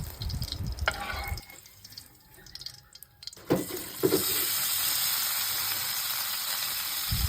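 Maling luncheon meat frying in reused cooking oil, a steady bright sizzle that swells and stays loud after a quieter stretch, with a few clattering utensil knocks near the start.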